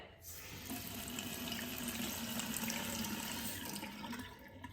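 Water streams steadily from a Kohler Maxton bathroom faucet whose rectangular spout shapes the flow, a close, continuous rushing splash with no talk over it.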